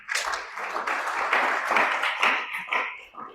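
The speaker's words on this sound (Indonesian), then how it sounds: "Tepuk tangan bagi Tuhan." A church congregation at a GBI service applauding together, a dense, steady wash of clapping that holds for several seconds before tapering off near the end.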